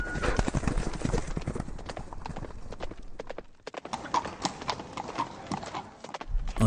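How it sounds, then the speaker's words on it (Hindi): A horse's hooves clip-clop steadily as it is readied for a journey in a horror story, with a neigh rising among the close, continuous hoofbeats and no talk. "वो अपने घोड़े को लेकर सफ़र के लिए तैयारी कर रहा है"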